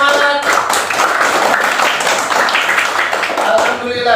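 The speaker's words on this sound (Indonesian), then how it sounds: "Ayo tepuk tangan yang semangat." Students in a classroom clap together enthusiastically during a Quran reading lesson, a close, loud and fairly continuous patter of hands, with voices heard briefly over it.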